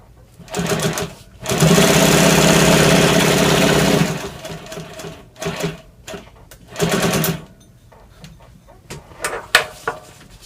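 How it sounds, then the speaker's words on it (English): Sewing machine stitching down a flap on a 6x4 first aid pouch panel, running in a long steady burst followed by several shorter runs and pauses, close and fairly loud with no talking. "I'm going to sew down that flap just because I like it to look like that"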